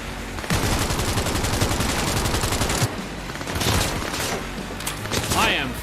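Rapid automatic gunfire in Cyberpunk 2077 rattles off in a dense, sustained volley, followed by a few scattered shots and a mechanical ricochet, with a voice speaking over it.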